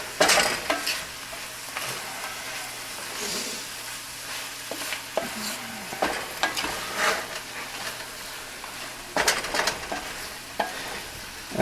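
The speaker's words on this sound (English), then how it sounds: "You have enough room to" A sourdough and andouille sausage stuffing is stirred in a Pyrex pan, with close, irregular scraping and soft sizzling strokes coming in uneven bursts.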